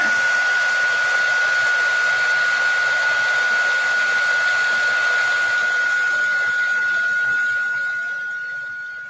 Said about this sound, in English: now I'm going to heat set, and then we'll be ready to put it all together